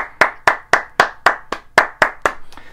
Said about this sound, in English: give yourselves a clap for being a good audience